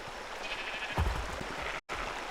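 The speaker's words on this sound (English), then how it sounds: "I really want to tame the sheep." A sheep bleats in ARK: Survival Evolved, a single drawn-out game bleat over steady background ambience, with a short thump partway through and a brief dropout near the end.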